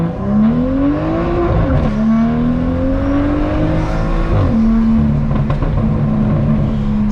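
Straight-piped, catless BMW M2 accelerating hard on a country road, heard from inside as a loud, raspy exhaust climbs through the revs, with sharp drops at each gear change.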